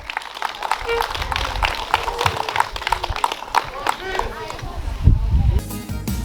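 Audience clapping and applause at an outdoor festival concert welcoming a duo onto the stage, a dense, steady patter of many hands filling the whole stretch, with a louder low thump near the end.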